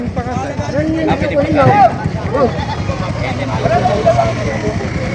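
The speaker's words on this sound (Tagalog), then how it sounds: "Napakalaking kambing ho nito." A large goat at a livestock sale bleats in several wavering cries of middling loudness, mixed with background voices and chatter from a busy outdoor crowd.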